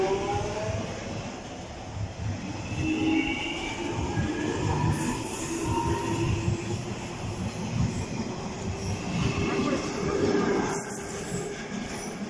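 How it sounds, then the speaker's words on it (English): A Jubilee line Underground train pulls out of Wembley Park toward Stanmore, its steady rumble and wheel noise filling the platform continuously at close range, with faint high squeals from the rails. "Oh, now goes the Stanmore service. Jubilee line service to Stanmore."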